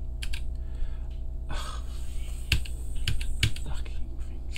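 Clacking keys on a computer keyboard, irregular bursts of close, sharp taps with short pauses between them, and no voices.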